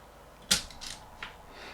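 A WORKPRO automatic wire stripper stripping a wire, a sharp close snap followed by a couple of softer mechanical clicks and a scraping release, heard alone.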